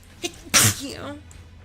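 One sharp, loud human sneeze bursts out close by, preceded by a brief inhale and followed by faint breathy sounds.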